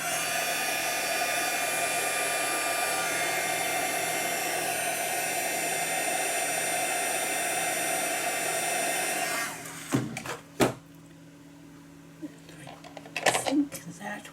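A handheld hair dryer blows in a steady, loud whoosh for about nine seconds while drying white paper craft backgrounds, then cuts off, leaving scattered handling noises and brief speech.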